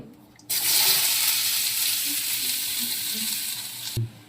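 Chopped onion dropped into a hot pan on a gas stove bursts into a loud, close sizzle that holds steadily for a few seconds before a clunk cuts it off near the end.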